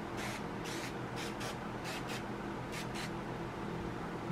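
Short hissing bursts of cleaner sprayed onto a Springfield 1903 rifle bolt, several quick pumps in irregular pairs, faint and close against a quiet background.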